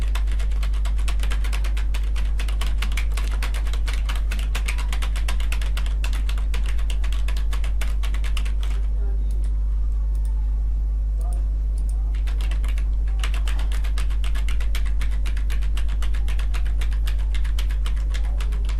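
Steady, rapid typing on a computer keyboard, close and continuous through most of the stretch with a brief pause near the middle, while faint room hum sits underneath.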